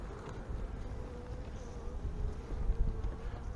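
Agitated honeybees buzz steadily inside an open hive after a split, a dense close drone that holds for the whole stretch with no talking.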